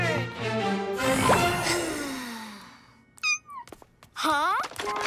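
A cartoon kitten from the Abby Hatcher series mews in two quick, high, bending meows near the end, following a stretch of sliding tones and a thump.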